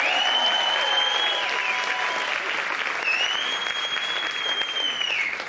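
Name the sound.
audience applause for police officers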